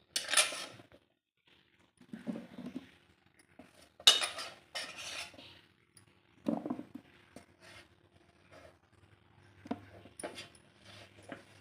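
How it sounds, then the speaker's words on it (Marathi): Carrot and chilli pickle being spooned into a jar, with scattered scraping, clinking and tapping of a metal spoon against a bowl and glass, close and fairly quiet, with long quiet gaps between the clatters. "आता हे मिक्स करून झालेले आता आपण हे बरणीमध्ये भरून घेऊया."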